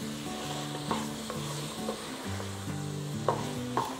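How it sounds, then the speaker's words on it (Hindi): Ground coriander and red chilli powder roast in a pan, the sizzling hiss steady throughout, with a few clinks of a spoon stirring and scraping the metal and a background hum of music. "हम इसमें लेंगे करीब 1 चम्मच धनिया पाउडर, 1 चम्मच भर के लाल मिर्च पाउडर, और इसे भूनेंगे।"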